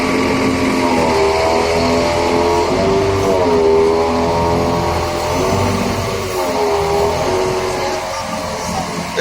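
A hydraulic system with a relieving valve makes an abnormal loud whining, droning mechanical noise, with tones that rise and waver as the sound grows stronger over several seconds.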